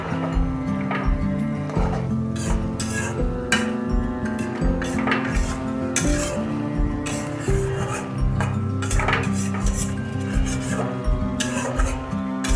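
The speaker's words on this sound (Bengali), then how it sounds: "তো আরেকবার আমি একটু নাড়িয়ে চাড়িয়ে দেব।" A spoon scrapes and rasps around a pot of malabar spinach and prawn curry being stirred, repeated rhythmic scraping strokes over a steady background, close and fairly loud.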